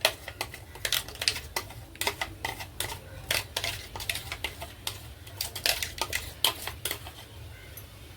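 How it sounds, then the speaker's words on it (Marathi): Dhokla batter being poured out of a steel vessel onto a plate: a busy run of quick metallic taps and scrapes, steady and fairly close, with no talking over it. "लगेचच या ताटावर टाकून घ्यायचं आहे सगळं बेटर"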